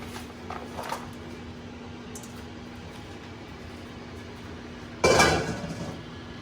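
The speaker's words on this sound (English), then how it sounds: "You're going to put it onto your baking sheet." Brussels sprouts dropped onto a metal baking sheet: faint light taps early on, then one short, loud clattering rattle near the end over a quiet kitchen hum.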